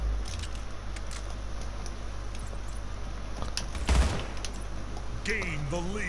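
Gunshots in the arena shooter Splitgate: a few sharp, quick weapon bursts crackle over steady game ambience, with one louder burst near the middle and brief electronic tones near the end.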